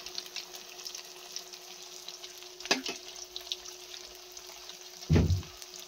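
Tofu frying in oil in a pan, a faint steady sizzle with a soft clatter midway and a louder scraping stir of the pan near the end.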